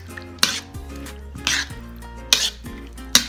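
Green beans being stirred in a dish for a home casserole, a few distinct clinks and scrapes of a utensil against the dish at irregular intervals, close and moderately loud, with no talking.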